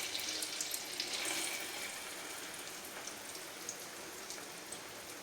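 Slices of bread dipped in beaten egg fry in a pan for egg toast, giving a steady, close crackling sizzle that holds through the whole stretch with small pops and no talking.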